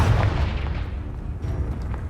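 A deep, booming blast from the Confringo fire spell in Hogwarts Legacy rolls on with a rumbling roar that slowly fades.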